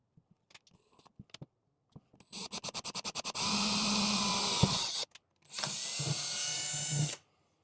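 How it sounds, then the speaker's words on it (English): A power drill starts with a few short clicking bursts, then whirs in two sustained, loud runs with a brief pause between them, pilot drilling holes for a wing on a 2022-or-later Subaru WRX. "I think I'm going to try and do the pilot drilling"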